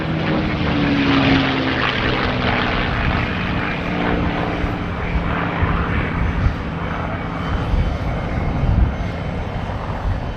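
North American P-51 Mustang engines roar loud and steady at the Duxford Battle of Britain Airshow, a continuous propeller drone filling the whole stretch without talking.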